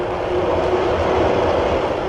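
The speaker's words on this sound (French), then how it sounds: "Ces améliorations ont été réalisées avec les nouvelles rames du métro sur pneus qui desserrent la ligne Châtelet-Mairie des Lilas." A 1950s Paris metro train on rubber tyres, a new set on the Châtelet–Mairie des Lilas line, gives a steady, loud broadband rumble and hiss of running, continuous and unbroken with no talk.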